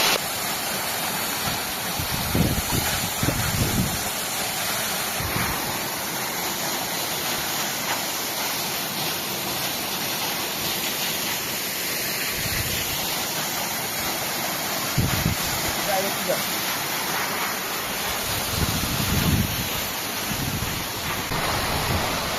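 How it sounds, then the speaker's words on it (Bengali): Waterfall at Satakshi Dham, Nepal, pouring with a steady, close rushing roar, broken now and then by low gusty thumps of wind on the microphone; no voices. "ঝর্ণাটা একদম নিচ থেকে"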